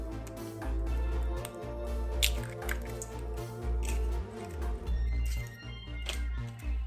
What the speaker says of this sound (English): we're going to gently mix it together, just until it's incorporated.